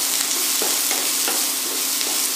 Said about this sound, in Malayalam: സവാളയോട് ചേർത്തൊന്ന് വഴറ്റിയെടുക്കണം.